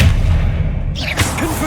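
In Hogwarts Legacy, an Expelliarmus spell fires as a sharp, punchy magical blast with a bright whooshing burst, followed by brief ringing, chirping tones. The sound is short and loud, set over a steady low game rumble.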